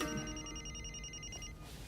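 A mobile phone rings with a steady electronic ringtone of repeating tonal pulses, close and clear for about a second and a half before cutting off.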